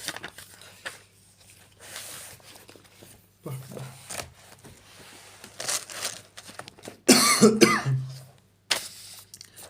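A few sharp coughs and a throat clearing, close and fairly loud, with one harsher burst near the end amid quiet rustling.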